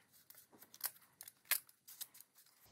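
Scissors snipping through stiff cardboard in a run of short, crisp cuts, close by, with brief pauses between snips.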